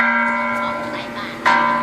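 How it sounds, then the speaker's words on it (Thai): A Thai temple bell rings at an outdoor New Year's Eve chanting ceremony, its steady tone humming and sustaining before a second strike lands near the end. "เสียงระฆังนั่นไงวัดอยู่ตรงนี้"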